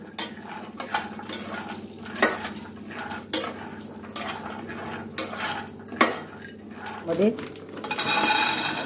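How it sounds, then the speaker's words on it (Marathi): Almonds dry-roasting in a pan, stirred with a metal spoon that scrapes and clinks against the pan in a loose repeating rhythm, close and fairly clear, with a brief bit of background talk. "आता बदाम पण आपले भाजत आलेले"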